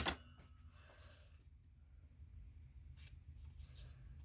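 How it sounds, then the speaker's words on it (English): Non-stick scissors snip through washi tape with a sharp cut at the start, then quieter scrapes and another crisp snip later, all close up and faint in a quiet room. "using my non-stick scissors"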